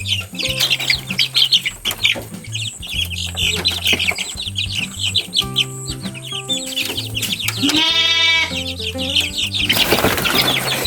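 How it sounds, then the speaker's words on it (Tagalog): Chickens on a farm plot cluck and chirp loudly and continuously, with overlapping calls from several birds close by and a brief burst of wing flapping or squawking near the end; no one speaks. "Dahan-dahan na rin daw marami ang manok ni Brad Tata."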